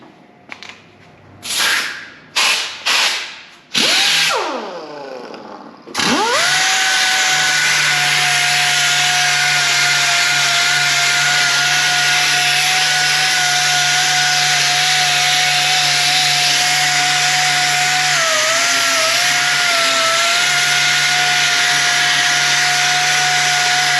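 A power sander with a 180 grit disc on a 1955 Chevrolet frame: a few scraping strokes and a spin-up, then a loud steady whining drone as it grinds continuously.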